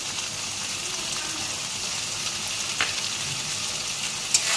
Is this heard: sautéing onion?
yes